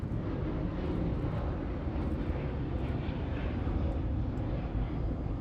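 An Alaska Airlines airliner in special livery departs Los Angeles International Airport, its jet engine roar loud, broad and steady throughout with no talk over it.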